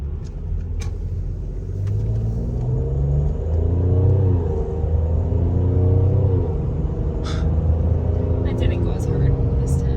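Mercedes-AMG GLE43 engine driving in comfort mode, a steady low rumble with smooth rising and falling gear pulls under cabin talk, passing traffic faintly audible.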